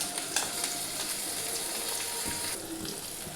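Chopped tomato hitting hot oil with onions fried until reddish in a pan, a soft continuous sizzle with crackles and a few stirring clinks, fairly quiet and without talk.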